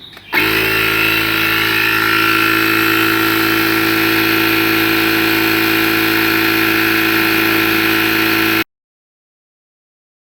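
An AGARO portable tyre inflator pumping air into a punctured car tyre, its loud, steady motor whine and buzzing compressor running continuously for about eight seconds after a brief start, then cutting off abruptly into silence.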